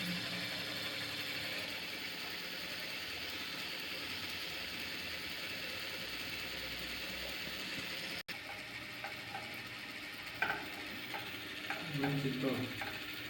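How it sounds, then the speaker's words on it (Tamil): A BRUCE sewing machine's bobbin winder running after repair, a steady whirring mechanical hum that stops abruptly, followed by a few clicks and handling knocks. "Bobbin winder ready ஆகியாச்சு."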